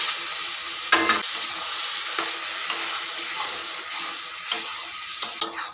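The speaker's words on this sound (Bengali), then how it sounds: "পটলের সঙ্গে মশলাগুলো খুব ভালো করে মিশিয়ে নেবো" Pointed gourd with spices and a splash of water is stirred in a pan, giving a close, continuous sizzle broken by several sharp spatula scrapes and knocks.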